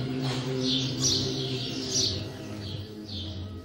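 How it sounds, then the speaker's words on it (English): Birds nesting in the carved stonework of an ancient Egyptian temple chirp in repeated short high calls over a steady low background hum, fairly close and moderately loud. "birds find a home in carvings once dedicated to the gods"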